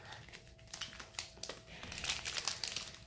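Scissors cutting open a Theros Beyond Death Magic booster pack, a close crinkling of foil wrapper with brief snips and rustles over about three seconds, no talking.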